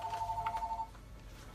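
A telephone rings with a steady electronic trill for under a second and then stops, heard faintly against room background noise.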